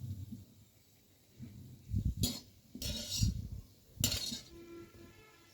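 Cashews and panjeeri ingredients dry roasting in a pan, with three or four bursts of scraping and clinking as a spoon stirs them, set apart by quiet pauses.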